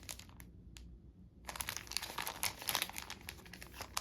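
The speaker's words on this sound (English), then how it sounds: "I've got this Daiso paper." Daiso paper sheets are handled and crinkled close up: a few faint rustles, then after a short quiet gap a dense run of sharp crackling and crumpling noises.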